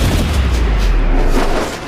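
A heavy, booming explosion in the video game Marvel's Midnight Suns, a loud, sustained low rumble filling the whole moment without any voices.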